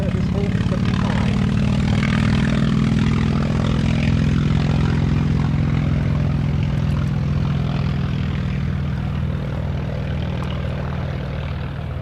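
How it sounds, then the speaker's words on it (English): A Grumman FM2 Wildcat and a Curtiss Hawk 75 scrambling off the runway at Duxford, with a loud sustained propeller engine drone that slowly fades, overlaid by someone talking. "here they go, scrambling off Duxford's runway, the Grumman FM2 Wildcat and the Curtis Hall 75"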